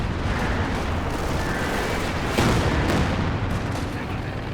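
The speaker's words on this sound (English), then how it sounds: "Katyusha coming in." Katyusha rocket artillery barrage in Company of Heroes 2 on a narrow map, a dense continuous roar of blasts and rumbling impacts with one sharper burst midway, under game noise.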